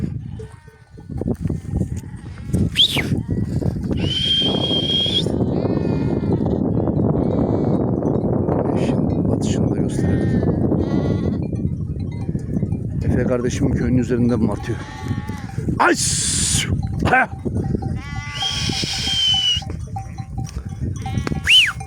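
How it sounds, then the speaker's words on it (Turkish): Sheep bleat repeatedly, some near and some farther off, over a low murmur of a flock, while someone talks briefly. "Bakın dostlar koyun mayıslıyor artık."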